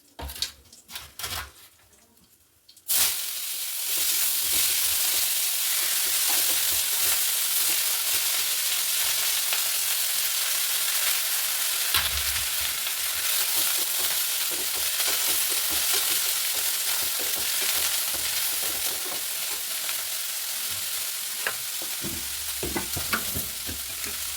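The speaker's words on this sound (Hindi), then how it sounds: "जीरे का तड़का लगा लेती हूँ" Cumin seeds tempering in hot oil, a loud, steady close sizzle and crackle that starts suddenly after a few seconds of quieter kitchen handling and keeps going without a break.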